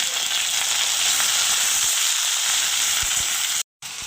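Pumpkin leaves, garlic and green chilies sizzle and fry steadily in a hot pan, a continuous close crackling hiss that drops out very briefly near the end.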